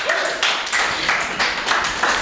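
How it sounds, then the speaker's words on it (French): A church congregation claps together in steady bursts of applause during a worship service, the sound filling the hall with a dense, even texture and no voices standing out. "applaudissons pour la gloire de Dieu."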